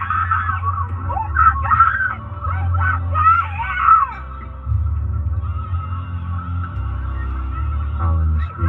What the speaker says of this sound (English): Howling and screaming.